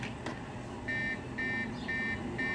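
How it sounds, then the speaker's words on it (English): Piezo warning buzzer on a breadboard-built ride operator control panel, triggered by the e-stop button: four evenly spaced high-pitched beeps, clear but modest in level over a steady background hum. "there's a annoying beeping sound to signify an e-stop"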